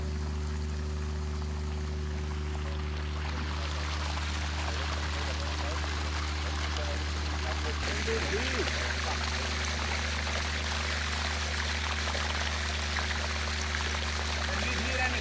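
Water rushes and trickles steadily against a mobile flood barrier tarp set up by a fire brigade, a continuous close flowing wash over a low constant drone.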